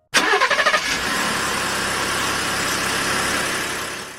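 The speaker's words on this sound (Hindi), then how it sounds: "ट्रक स्टार्ट होते ही इंजन की गड़गड़ाहट ने हमें सुकून दिया।" A truck engine cranks with a quick run of rhythmic turns, catches and settles into a steady, fairly loud rumbling idle that fades slightly at the end.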